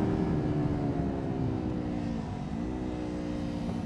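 A Kawasaki Ninja 400 sportbike engine runs hard on the throttle at Pacific Raceways during racer training, a loud, steady high-revving drone that dips slightly in pitch midway, then climbs again.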